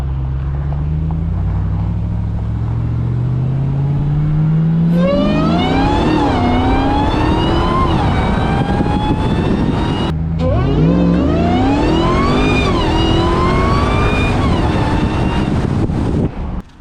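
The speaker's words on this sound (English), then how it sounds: "Just that initial whine when you get into the throttle." A Ram TRX pickup fitted with a CPS cold air intake revs twice, its supercharger whine climbing sharply in pitch with each throttle push over a loud, close engine roar and some wind noise.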